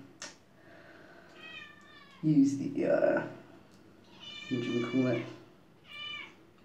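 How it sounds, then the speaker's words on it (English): A domestic cat meows repeatedly at close range, several drawn-out calls spaced a second or two apart, while a person talks over and between them indoors. "That's my cat. Wondering where I am."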